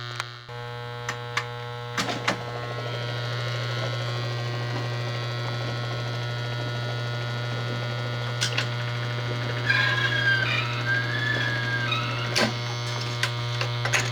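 A Seeburg Select-O-Matic jukebox mechanism runs with a strong steady electric hum, punctuated by scattered mechanical clicks and clunks and a brief whirring movement midway, close and without talk.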